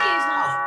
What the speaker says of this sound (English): And that's the doorbell.